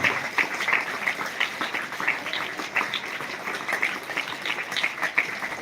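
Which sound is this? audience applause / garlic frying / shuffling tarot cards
audience applause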